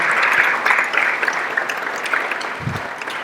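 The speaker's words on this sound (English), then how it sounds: "could we give them a round of applause?" A brief burst of audience applause after a talk on psychedelics and the mind, dense clapping that gradually thins out.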